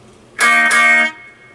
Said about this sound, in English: then the distortion kicks in